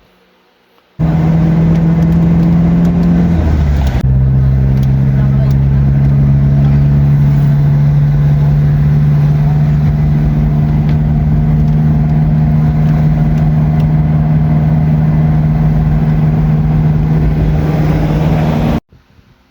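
A Toyota 2L diesel engine in a Toyota Revo pickup starts and idles steadily with a low droning hum, then shifts to a slightly lower, even note and runs on until it cuts off.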